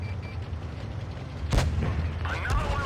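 A tank cannon fires in World of Tanks Blitz, one sharp, heavy boom in the middle with a rumbling tail, and a second, lighter report near the end over low engine drone.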